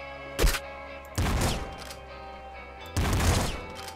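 Auto flame shotgun firing in Nuclear Throne: three bursts, a short sharp blast followed by two longer roaring blasts, each loud and close with gaps of quieter game background between them.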